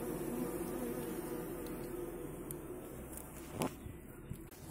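Honeybees buzz at the hive entrance where guard bees stand watch, a dense, continuous close-up drone with small swells as individual insects pass nearby.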